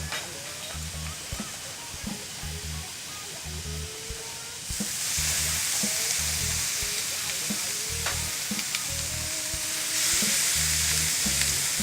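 Chicken topped with rosemary and garlic sizzles steadily on a Crossray grill, a continuous close frying hiss that grows louder partway through, with occasional light knocks and scrapes.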